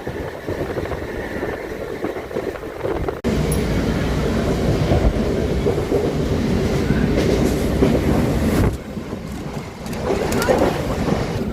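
A Goregaon–Panvel Harbour Line local train rumbles past close by in fog, a loud continuous roar with rattling wheels that surges after a few seconds and stays heavy throughout.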